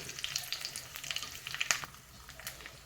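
Hot oil crackles with quick, irregular pops and spits of mustard seeds tempering over a low flame, fairly close and moderately loud, with no talking.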